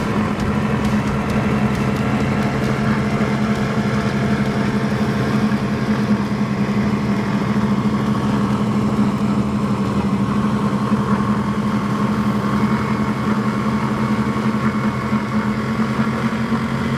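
Mercury engines on a powerboat at a Key West poker run idle with a loud, steady, throbbing low rumble. The sound holds continuously and close throughout, with no voices.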